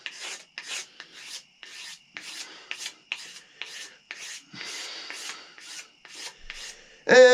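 A razor blade scrapes along a wooden tomahawk handle in about a dozen short, rhythmic rasping strokes, each a brief close burst with small pauses between, ending in a louder sharper sound.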